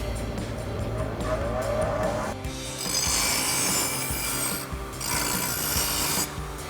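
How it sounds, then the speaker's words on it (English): A grinder cleans up the freshly cut edges of exhaust pipe while an F-150 exhaust system is being fitted, giving a loud, steady rasping grind in several bursts separated by brief pauses, heard up close with no talking. "Now we're gonna come over to the grinder and clean up some of these edges here."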